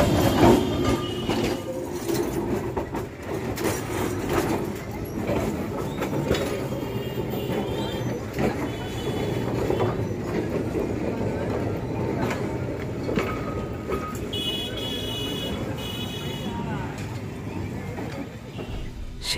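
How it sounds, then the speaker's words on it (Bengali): A Kolkata tram running: a steady loud rumble with rail clatter throughout, some faint ringing tones late on, and voices in the background. "ঢং ঢং আওয়াজের সাথে কলকাতার এই ট্রামগুলি এখনও সবার"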